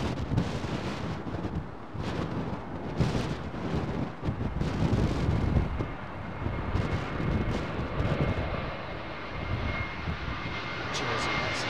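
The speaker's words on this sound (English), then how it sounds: "The Jersey flight is on approach" An airliner on the Jersey flight approaching London Heathrow in high winds, its engine roar loud and sustained, mixed with heavy gusty wind buffeting on the microphone.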